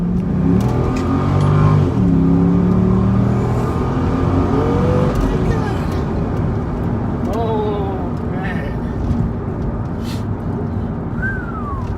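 A 2007 Chevrolet Corvette C6 convertible engine revving hard and accelerating through several gear changes, rising pitch repeatedly, loud and close, with someone talking over it.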